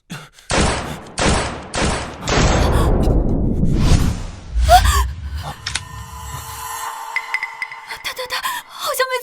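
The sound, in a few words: gunshots in a short drama scene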